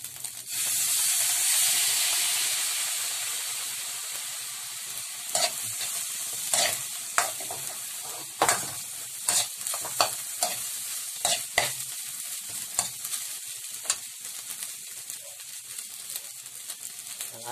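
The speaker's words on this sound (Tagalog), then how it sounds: "minix na rin natin dito ang ating brown sugar para matunaw" A spoon stirs a mixture of soy sauce, water and brown sugar in a hot pan for chaopan rice. A loud steamy sizzle opens, then scraping strokes come in an irregular rhythm over a softer hiss, close, with no talking.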